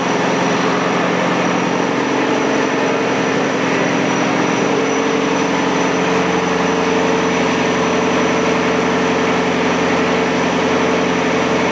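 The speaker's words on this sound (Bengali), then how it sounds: "এই সেই বড় ইঞ্জিনগুলা, ঠিক আছে, 2টা ইঞ্জিন দিয়ে কিন্তু এই শিপটাকে চালানো হয়" Two large ship engines run in the engine room, a loud, constant, dense drone with a steady low hum and unchanging roar throughout, heard up close.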